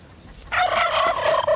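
A turkey gobbles loudly and close by in one sustained burst of rapid, warbling calls after a short quiet moment.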